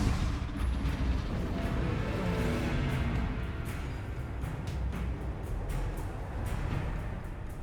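Confringo and Bombarda spell blasts in the video game Hogwarts Legacy, with repeated booming impacts and crackling bursts over a dense, busy rumble of combat sound, loud and continuous.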